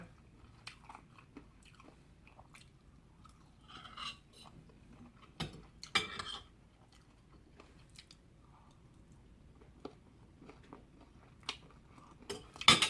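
Quiet, intermittent crunching and chewing with occasional sharper bites of bone, close up, no talking.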